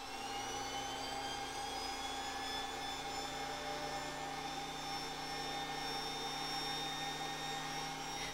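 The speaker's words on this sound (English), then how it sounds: "Start the G5 and just hit the on switch for a relaxing massage" A Kirby G5 vacuum cleaner runs with its orbital massager attachment fitted, giving a steady, even whine over a low hum that holds unchanged throughout.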